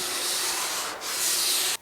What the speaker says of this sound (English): I'm going to keep sanding on this until I get in matching